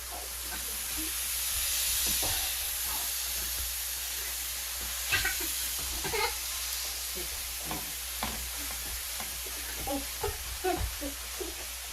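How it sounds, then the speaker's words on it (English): Steady hiss of steak sizzling in a hot frying pan fills the scene, with occasional clinks and scrapes of utensils over the constant fry. "Y'all hear that sizzle?"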